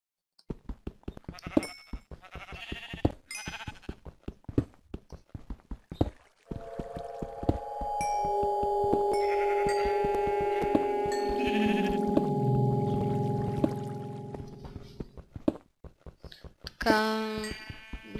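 Footstep-like clicks and taps lead into a long, drawn-out sheep bleat with a synthetic, game-like tone in modded Minecraft, followed by more clicking.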